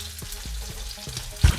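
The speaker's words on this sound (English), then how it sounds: "So we're gonna cook our onions until they're translucent." Onions sizzle in butter and a splash of olive oil in a pan, a steady close frying hiss broken by a few soft stirring scrapes and a louder clunk near the end.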